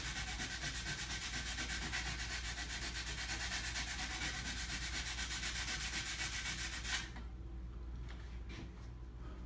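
Hand sanding with 80 grit sandpaper wrapped over a fingertip while prepping the end of a stand up paddle, a steady close rasping scrub that runs continuously for about seven seconds, then drops to a quieter scratch.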